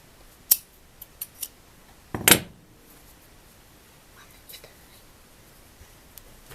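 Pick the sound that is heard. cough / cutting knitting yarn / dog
cutting knitting yarn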